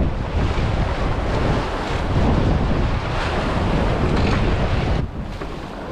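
Strong wind buffets the microphone in heavy gusts over rushing open water around Bruny Island, heard from a small Welsford SCAMP dinghy, a loud, continuous roar that eases briefly near the end.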